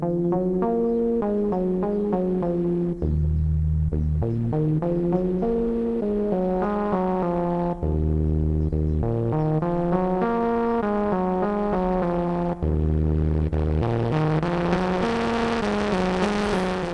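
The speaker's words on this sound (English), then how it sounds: "you can introduce some grit and some noise into the signal as you modulate the filter" A Dreadbox Murmux III synth plays a looping bass sequence with its filter modulated by a noise circuit, giving a gritty, buzzing tone that sweeps and repeats steadily, loud and alone throughout.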